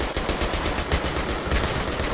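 Rapid machine gun fire from Battlefield 3 rattles continuously in dense, fast bursts, loud and close, with a couple of heavier thumps mixed in and no voices.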